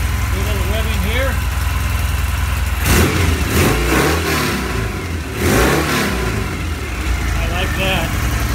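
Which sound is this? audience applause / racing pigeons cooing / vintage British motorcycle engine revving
vintage British motorcycle engine revving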